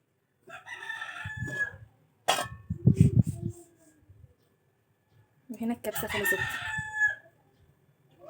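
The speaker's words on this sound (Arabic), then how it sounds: "ده صوت الديك بتاعنا" A pet rooster at a family home crows loudly and nearby twice, a long strained call early and another later, with someone speaking briefly between the crows and clanking kitchen sounds.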